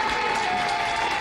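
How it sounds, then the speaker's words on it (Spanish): Audience applause for a student during a science lesson on Mendel's laws, a short, steady burst of many hands clapping at close range with no talk over it. "Un aplauso para él."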